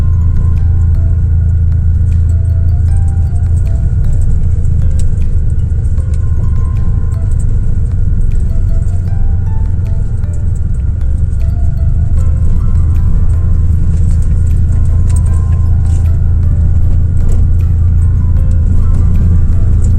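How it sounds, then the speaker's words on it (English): A car driving on a road in Kisumu, Kenya, near the Kondele–Mamboleo road construction, heard from inside the cabin: a steady, loud, low engine and road rumble runs without break for the whole stretch, with no talk. "we are driving to Ukweli Pastoral Center, which is just here on our right"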